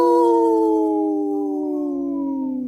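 A single long, loud wolf howl slowly glides downward in pitch and sustains clearly on its own, with no voices.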